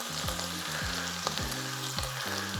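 Beef strips frying in a hot pan for a miso sauerkraut and beef roll, giving a steady close sizzle with a few brief louder crackles and no talking.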